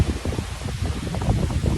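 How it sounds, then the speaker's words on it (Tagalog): Strong, gusty wind blowing outdoors in a back alley behind restaurants, a steady loud rush buffeting the microphone with no talking. "Ang lakas ng hangin."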